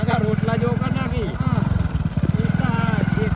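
A motorcycle engine runs steadily with a dense, low rhythmic putter throughout, close and fairly loud, with people talking over it in a Gujarati village comedy scene.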